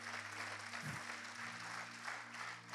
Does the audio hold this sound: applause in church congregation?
yes